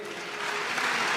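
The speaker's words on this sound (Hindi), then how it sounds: "इतनी ताली बजाओगे तो चोर भग जाएगा।" Steady clapping from a gathered audience at a devotional Hindi storytelling gathering, dense and continuous, swelling slightly louder toward the end with no voices on top.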